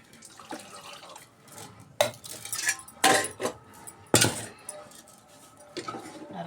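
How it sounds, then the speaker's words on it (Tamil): Water poured into a pot of parotta kurma curry, heard as a soft splashing pour broken up by a few sharp metal clanks of a utensil against the pot, close by and with no talking. "இப்போ நம்ம வேணுங்கிற தண்ணி ஊற்றிக்கலாம்"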